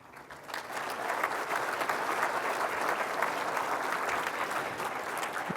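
Audience at a softball hall of fame induction in Manitoba applauding a junior women's fastball team, steady sustained clapping from a hall crowd swelling quickly after a quiet start and holding at full volume.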